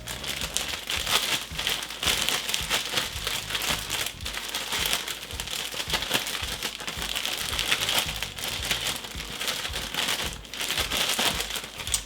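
A Ziploc bag holding flour is shaken vigorously, giving a steady, close crinkling rustle of plastic with powdery shuffling that runs continuously without pause.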